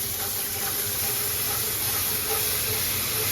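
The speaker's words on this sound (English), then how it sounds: "Your next step will be throw your sauce right in this skillet." Beef stir-fry sauce poured into a hot skillet for Mongolian beef steams and hisses loudly, a dense continuous sizzle that holds steady throughout with no talk.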